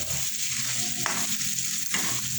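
Adobo made with dried fish fries in oil with a steady, loud sizzle and crackle, punctuated by a couple of brief stirring scrapes, with no talking.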